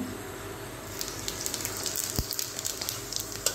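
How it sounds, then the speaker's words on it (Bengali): Cumin seeds dropped into hot oil left from frying fish crackle with a steady stream of small sizzling pops, with one low thump partway through. "এবারে দিয়ে দেবো তেলের মধ্যে একটু জিরা ফোড়ন"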